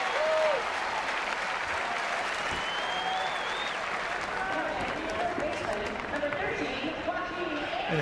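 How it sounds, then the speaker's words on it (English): A baseball crowd at a San Francisco ballpark gives a steady round of applause for a player after a flyout to center, a broad wash of clapping under a broadcaster's voice. "that's a well-deserved round of applause"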